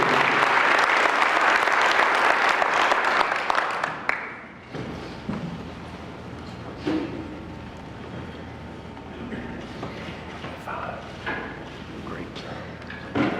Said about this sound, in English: Let's give her a big round of applause as she comes forward.